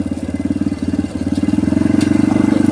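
A motorcycle engine putters rhythmically while riding, loud and close, with a fast pulsing beat that falters briefly then steadies and speeds up slightly, with a faint click midway.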